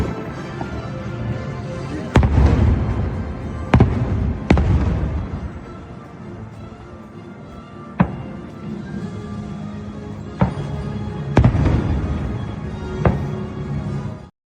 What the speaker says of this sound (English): ended it with some fireworks over at the Magic Kingdom